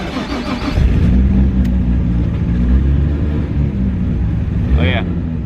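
A 1250 whp RB30DET-engined car pulls away on its first drive in all-wheel drive, with a loud, deep engine roar held under the cabin rumble and a brief higher whine near the end. Voices are faint or absent.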